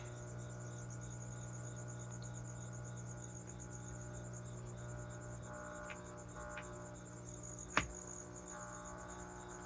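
Pet crickets chirp in a steady, continuous trill close by, with a soft background hum and a single sharp click near the end; no one speaks.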